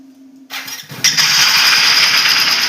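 A Hero HF Deluxe BS6 motorcycle with an idle-off problem cranks briefly and fires up, then settles into a loud, steady close-up idle.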